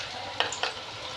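Chicken pakodi coated in gram flour batter frying in oil on low heat, a steady close sizzle broken by two quick scrapes or clacks of a utensil.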